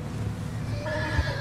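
A horse in the Red Dead Redemption II video game lets out a single short whinny with rising tonal squeal, fairly close and clear, with a faint hoof thud near the end.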